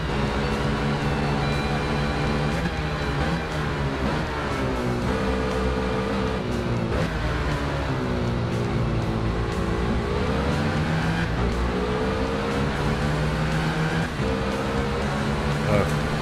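A motorcycle engine in the racing game Ride holds a steady, loud, continuous drone, its pitch rising and falling gently with throttle and gear changes throughout, with no breaks.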